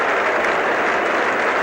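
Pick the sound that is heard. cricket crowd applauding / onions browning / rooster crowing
cricket crowd applauding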